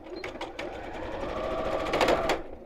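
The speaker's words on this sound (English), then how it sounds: "Normally makes that noise when I'm running out of bottom thread." A domestic sewing machine stitches in a short run as its bobbin thread runs low, a busy close whirring hum with rapid mechanical ticking that sounds slightly strained.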